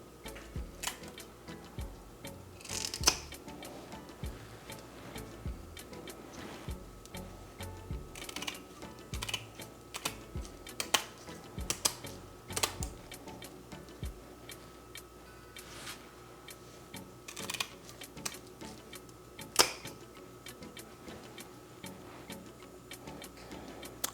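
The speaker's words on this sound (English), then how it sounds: "First, I remove the fins with kitchen shears, which always does the job" Kitchen shears snip the fins off a whole fish, giving a run of sharp, close clicks and crisp cuts at an irregular pace, with no talk.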